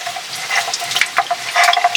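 Mustard oil hits a hot wok and starts a brief, close sizzle with scattered sharp ticks and spits that grow busier toward the end, with no talking over it.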